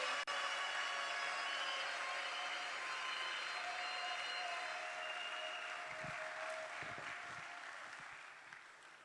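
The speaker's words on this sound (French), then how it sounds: "Est-ce qu'on peut l'encourager par les applaudissements alors qu'elle s'avance, mesdames et messieurs?" Sustained applause from an audience at an awards ceremony as a minister walks up, a steady dense wash of clapping that slowly fades toward the end.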